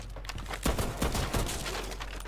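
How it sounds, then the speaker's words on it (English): Several rapid AA-12 automatic shotgun blasts in Rainbow Six Siege on the Villa map, close and punchy, with two heavier bursts standing out over a dense rattle of gunfire. "I took the AA-12 just to speed it up because it's a lot easier to make destruction with a shotgun"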